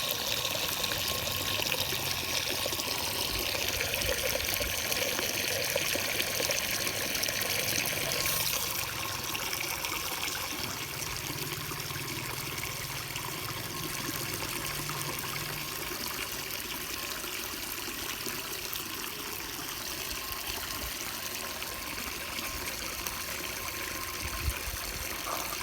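Filtered water running from a tap near a pigeon enclosure, a steady close trickle and splash that shifts slightly partway through, continuing without a pause.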